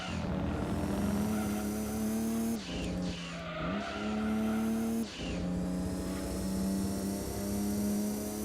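A race car engine in Gran Turismo 2 on PS1 gives a low, steady rumble with a high whine, briefly dipping twice as the revs shift, loud and continuous with no talking.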